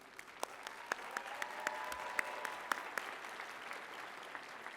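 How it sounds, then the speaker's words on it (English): A graduation commencement audience applauds a student speaker with dense, steady clapping throughout, a few sharper claps standing out, a lively crowd at a fall college ceremony. "Kelli has a robust cheering section to my left"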